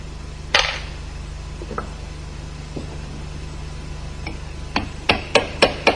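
A hammer strikes to flatten the tab washers on an MZ motorcycle engine during teardown. A few scattered sharp knocks are followed by a quick series of four or five loud metallic blows near the end, over a steady low hum.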